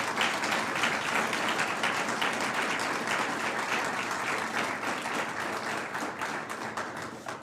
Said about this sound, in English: would you please give a round of applause for Tammy and Ann